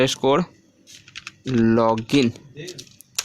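Keystrokes on a computer keyboard while a WordPress login address is typed during a local PC install, heard as quick close clicks in short bursts mixed with voice-like sounds.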